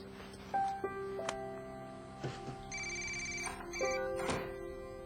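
A telephone rings with a bright electronic ringtone, its repeating tonal bursts sounding through a quiet room alongside faint thumps and a brief voice.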